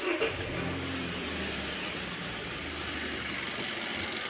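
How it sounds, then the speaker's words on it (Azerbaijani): A car engine started in a workshop during diagnostics of an oxygen sensor fault, a short start then a steady close running hum at moderate level. "Ona görə avtomobili işə salıram"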